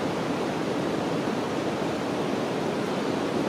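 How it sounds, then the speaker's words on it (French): Steady, dense wash of ocean waves with no distinct breaks, heard alone at a moderately loud, even level throughout. "Je suis à l'écoute aussi du rythme des vagues"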